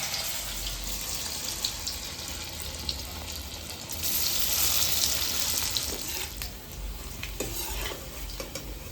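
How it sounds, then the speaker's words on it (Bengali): Soybean chunks deep-frying in plenty of hot oil, a dense, steady sizzling hiss close by that swells a little midway, with faint clinks scattered through it. "তেল কিন্তু গরম হয়ে গেছে, আমি এবার সয়াবিনগুলোকে ভেজে নামিয়ে নেব।"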